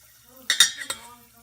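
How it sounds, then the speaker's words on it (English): Popcorn kernels poured into a pot on the stove, a short burst of several hard clattering rattles close by, over a quiet background with no talk. "Now I'm going to put the popcorn in"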